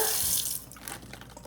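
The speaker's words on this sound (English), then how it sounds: "now I'm going to give it some water" Water poured over repotted succulents in pots, a close hissing splash that fades after about half a second into light trickles and drips.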